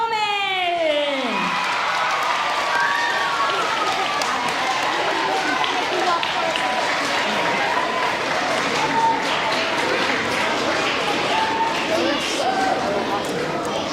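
An audience at a lap-running event cheers and claps for the winner, with a whooping voice at the start and then long, sustained crowd applause at an even, loud level with scattered shouts.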